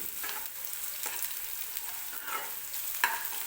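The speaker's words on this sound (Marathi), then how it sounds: "कांदा छान मऊ होईपर्यंत भाजायचा आहे" Onion and garlic sautéing in a pan for cabbage bhaji make a continuous sizzle, with a few scraping stirs and one sharp utensil tap near the end.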